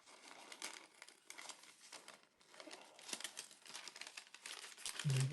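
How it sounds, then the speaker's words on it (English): Scissors cutting around pressed flower stickers, quiet crisp snipping and paper crinkles in an irregular run, close but faint, no voices. "we're going to cut out our stickers"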